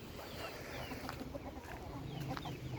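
Türken chickens and a rooster cluck softly in a farm coop, faint scattered clucks over a steady background with no talk.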